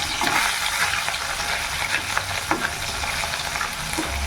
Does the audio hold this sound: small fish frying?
yes